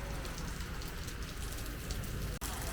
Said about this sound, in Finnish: niin täällä sataa nyt